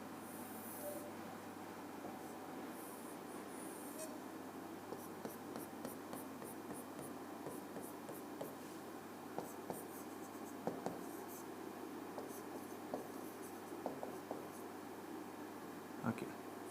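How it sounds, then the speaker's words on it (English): A pen draws a diagram on a board or paper during a lesson, giving soft continuous scratching strokes with a few sharper taps, faint and close over a steady low hum. "Let me draw it clearly here."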